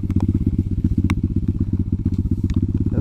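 An Izh Planeta 5 motorcycle engine runs in gear with a loud, close, steady low-pitched thumping throughout.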